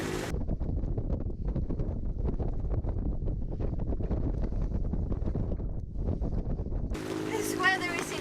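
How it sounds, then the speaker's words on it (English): Strong wind blasts across a sailboat's microphone in a steady, loud roar with gusty surges, a 23-knot southerly blowing against the current, before cutting abruptly to a brief moment of other noise near the end. "23 knots of wind from the south."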